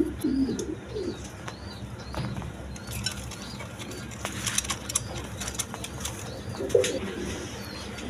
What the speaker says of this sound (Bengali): এখানে এক পেয়ার ব্লু শার্টিং আছে। কবুতরগুলো প্যাকেটে করে আনছি